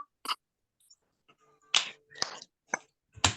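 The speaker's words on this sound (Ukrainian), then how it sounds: "три в долоні, три плеска" Sharp hand claps during a children's classroom exercise chant, several crisp separate strikes with gaps between them, close and fairly loud, with no talking over them.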